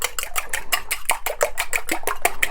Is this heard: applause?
no